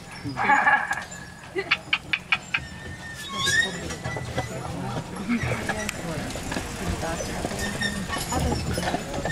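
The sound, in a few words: horse hooves clip-clopping pulling a carriage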